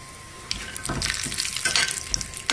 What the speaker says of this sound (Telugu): ఇలా కొబ్బరి ముక్కలు ఎర్రగా వేగాక దీనిలో జీడిపప్పు వేసి వేయించుకుందాం.